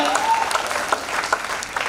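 A short burst of audience clapping at a seminar talk, brisk and fairly close, mixed with overlapping voices and crowd noise.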